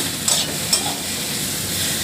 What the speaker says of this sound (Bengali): এবার সবজিটাকে ভেজে নিয়ে জল ঢেলে দিতে হবে